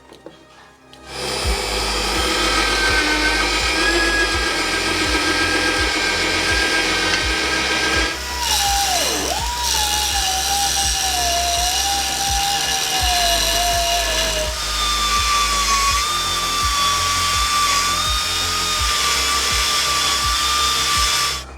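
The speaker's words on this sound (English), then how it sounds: "while I drill some holes and modify those mounts." Power drill boring holes in the steel bumper mounts of a Ford Ranger, a loud, steady whine running almost continuously with shifts in pitch as the bit bites and is repositioned, with no talking.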